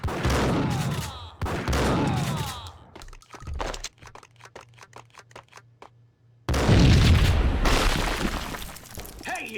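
Bursts of gunfire crack out in the Max Payne video game, loud volleys with a rapid string of single shots between them, ending in a heavy barrage with shattering debris.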